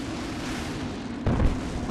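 Gunfire in Aliens vs Predator, a dense, continuous rumble of shots with a heavier burst partway through, loud and close throughout.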